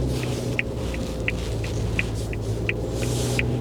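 A 1500cc four-seat Suzuki Jimny pulls out across a junction, heard from inside as a steady low engine rumble and road hum, with a faint regular ticking, likely the indicator, repeating about every third of a second.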